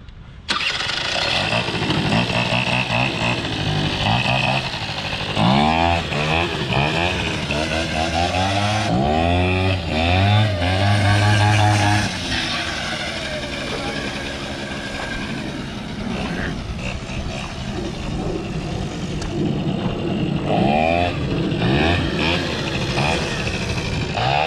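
A Kawasaki KFX 80cc quad engine revs hard and loud during a wheelie, its pitch rising and falling in repeated sweeping surges before settling into a steady high drone, heard close up throughout.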